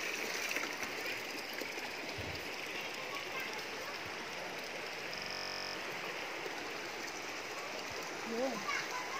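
Water streams down from a tree trunk during a flood, a continuous soft rushing and splashing at moderate distance, with a brief faint voice near the end.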